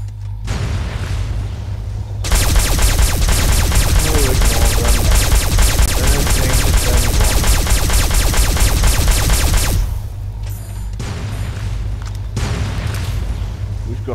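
Rapid, dense gunfire from the video game Fallout 3, a loud sustained burst of booming shots lasting several seconds, with quieter game sounds before and after and some talk nearby.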